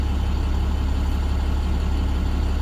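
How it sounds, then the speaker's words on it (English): A school bus idles just after engine start while its air system builds pressure, giving a steady low rumble with a continuous hiss on top that stays even and close throughout. "noise that you hear is the air pressure that was building up"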